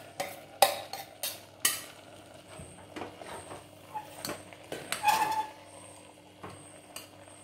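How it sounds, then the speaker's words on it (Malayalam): A spoon stirs ground coconut paste into a pot of jackfruit curry, sending out a series of sharp scraping clinks against the pan, some quick and clustered, others spaced apart, close and with no talking. "ഇനി നമുക്ക് ഈ അരപ്പ് അരച്ച അരപ്പ് നമുക്ക് അതിലേക്ക് ഇട്ട് കൊടുത്ത് നന്നായിട്ട് ഇളക്കിയെടുക്കാം."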